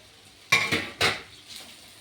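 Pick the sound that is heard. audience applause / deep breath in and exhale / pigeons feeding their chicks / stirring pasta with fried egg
stirring pasta with fried egg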